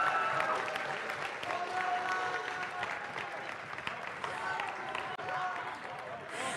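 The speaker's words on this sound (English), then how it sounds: "Let's have one more round of applause for everybody." An audience at an FTC robotics league tournament in Chicago, at Francis Parker, gives a sustained round of applause, a dense wash of clapping from a crowd that stays fairly even for several seconds with some tonal background sound beneath.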